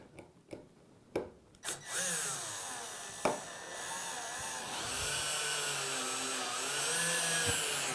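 A cordless drill driver on speed 1 drives a wood screw, starting with a few short clicks and taps, then a steady whirring motor hum that rises and holds close and loud for several seconds with no talk.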